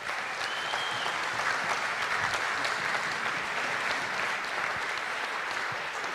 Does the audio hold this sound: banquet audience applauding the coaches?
yes